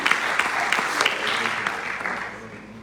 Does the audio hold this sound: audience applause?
yes